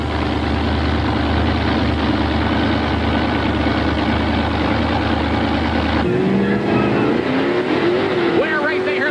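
Monster truck engines, Ford Bigfoot and Chevrolet Star Monster, rumble loudly and continuously at an arena event, then cut to a rougher mix with crowd noise and an announcer talking over it.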